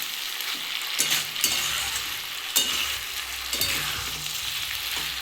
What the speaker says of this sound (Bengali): আমি এটা মাঝে মাঝে একটু খুলে নেড়ে দিচ্ছি